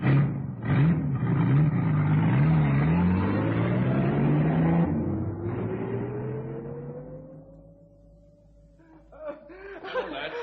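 A bus engine drones in a radio thriller, a steady rumble that rises slowly in pitch as the vehicle pulls away, heard after a stretch of laughter and voices.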